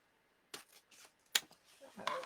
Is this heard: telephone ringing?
no